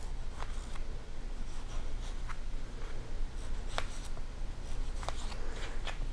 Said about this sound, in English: All you do is slice the tomatoes into wedges.